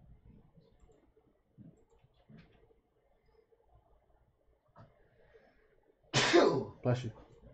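A single loud, sharp sneeze bursts out near the end after quiet murmurs and faint clicks, followed by a short second exhale, recorded close up indoors.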